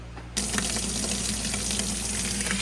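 Water bursts on abruptly and then runs steadily from a garden hose connected to a yard spigot, a close, continuous rushing hiss.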